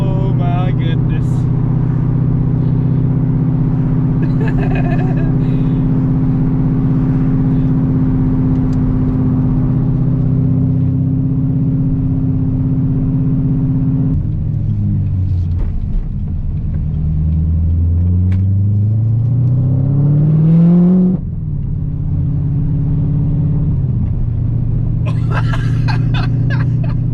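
C7 Corvette Z06 with new headers and a loud exhaust, idling with a deep steady rumble, then revving up and down in rising and falling sweeps before settling back to idle. Laughter and chatter run underneath.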